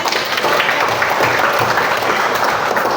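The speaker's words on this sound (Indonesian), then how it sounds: "berikan dulu tepuk tangan ya" Audience applause at a presentation on operating and applying AI tools, a dense, loud, even roar of many hands clapping without pause.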